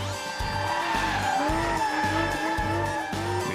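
A 2018 Porsche 911 GT3 RS, rear-wheel drive, drifts with loud, wavering tire squeal over a revving engine, the skid rising and falling in repeated bursts close by.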